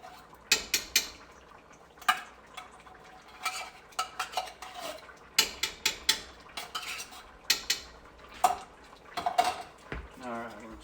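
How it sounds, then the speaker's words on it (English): A spoon scrapes and clatters against a pot while stirring a jambalaya with celery and mushrooms, giving repeated close metallic knocks and scrapes with soft liquid stirring between them. "I'm going to stir that in here. Make sure this stuff doesn't stick."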